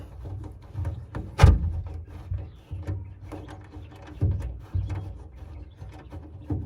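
A bike mount being screwed back by hand into a Utili-Track truck bed track, with soft clicking, ratcheting and scraping metal sounds, quiet and close, occasional louder knocks.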